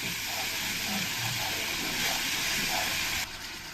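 Masala spice paste sizzles in a pan after a little water is added for a Bengali prawn malai curry, giving a steady, close, bright hiss that drops off abruptly near the end.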